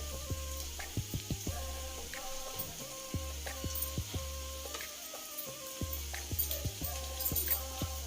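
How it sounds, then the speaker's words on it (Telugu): Two ladles stir chicken 65 fried rice in a hot pan, their steady metallic scrapes and clinks ticking in a rhythm over a soft, continuous sizzle. "2 గరిటెలు తీసుకుని చక్కగా ఇలా కలుపుకుంటే కలిసిపోయింది"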